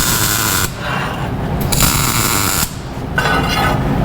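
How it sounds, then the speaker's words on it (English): Steel pieces being tack welded during a live welding lesson, giving a loud steady arc crackle in bursts, cutting off briefly twice between short welds with no talk. "So I'm going to tack this together and show you guys a little bit a different weld"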